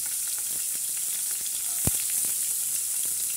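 Chopped onion fries in hot oil in a kadhai after a curry leaf tadka, a steady close sizzle with crackling pops and one sharp spatter, no voices.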